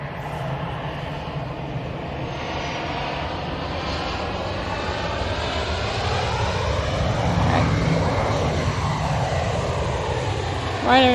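An ATR 42 turboprop airliner arriving from Inverness, its steady engine drone and propeller roar holding loud and continuous throughout, with talk over it.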